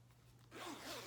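A zipper on a sewn toiletry bag is pulled in one quick, close rasping stroke after half a second of near quiet, with a faint low hum underneath.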